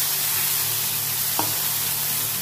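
Sliced onion and ground sesame paste frying in a pan, a continuous close sizzle with one brief stir or scrape partway through.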